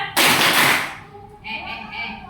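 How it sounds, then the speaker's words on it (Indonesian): An elementary school class of fifth graders at SDN Petapan 1 answers with a loud double clap, a dense, crackling burst of many hands lasting under a second, followed by a teacher speaking. "Tepuk ganda."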